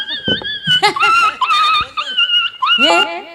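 A dog barks and whimpers in a stage folk performance, with high yelping, whining cries tangled with human voices, likely someone imitating the dog, loud and close throughout.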